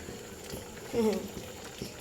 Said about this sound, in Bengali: ঘুগনিটা ফুটে উঠেছে।